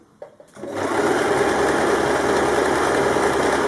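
Close sewing machine running an overcast stitch through fabric with a fringe foot, a few soft clicks at the start, then a loud, steady, fast mechanical whir that holds to the end.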